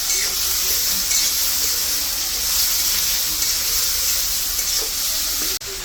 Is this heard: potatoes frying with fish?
yes